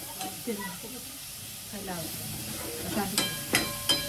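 Chopped onion sizzles in a pan while being stirred, a steady soft frying hiss with a few sharper scraping stirs toward the end, faint voices in the background.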